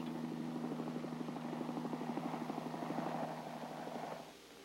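Rotor of a Hiller Hornet helicopter running, a loud steady pulsing whop of blades mixed with engine drone, continuous and close, easing off slightly at the end.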